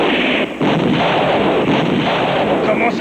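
Machine gun nest firing in a war-film battle scene, a loud, dense roar of gunfire and artillery blasts that runs nearly nonstop with a brief dip early on.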